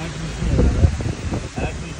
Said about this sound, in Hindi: हवा इतनी तेज चल रही है प्रॉपर जो है ना तूफान आया हुआ